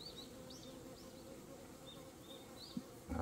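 Honeybees hum in a dense, steady drone at a beehive being inspected outdoors, with individual bees whining past nearby and a short knock and rustle at the end.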